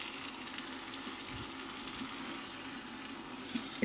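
Okra masala (bhindi) frying on high heat while being mixed, a soft, steady sizzle with faint stirring scrapes throughout and no talking.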